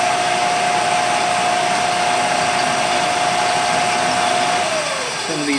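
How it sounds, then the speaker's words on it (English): A drill bores through the Berdan primer pocket of a cartridge case, making a loud, steady motor whir with a clear tone that slides downward as it spins to a stop near the end. "drill that primer pocket through"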